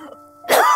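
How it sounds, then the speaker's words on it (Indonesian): A person coughs once from thick smoke drifting through a village, likely from a garbage dump; a quiet lead-in gives way to a sharp, loud, noisy burst that fills the last half of the moment. "Asapnya bikin batuk."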